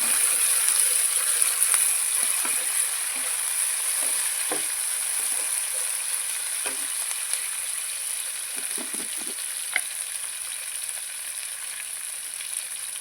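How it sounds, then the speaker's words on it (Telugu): Chopped tomatoes fry in a pan for amla dal, giving a continuous bright sizzle with scattered faint pops and crackles, close and steady throughout. "ఇవి కాస్త లైట్గా వేగిన తర్వాత మనం కట్ చేసి పెట్టుకున్న టమాటాలు కూడా వేసేస్తామండి"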